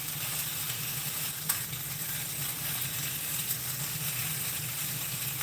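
Chicken sausage sizzles steadily in a pan, a continuous close crackle and hiss with a few sharper pops, no talking.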